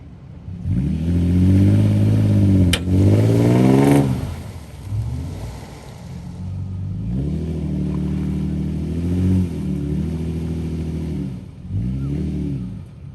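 A Toyota engine revs hard in repeated rising and falling surges while pulling a vehicle out of deep mud at a lakeside recovery, loud and close with mechanical clatter between pulls.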